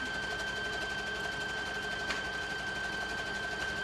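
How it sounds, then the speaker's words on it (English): Sewing machine stitching a pillow cover: a steady, fast mechanical hum and patter running without pause at close range, fairly quiet. "So I'm going to sew this real quick"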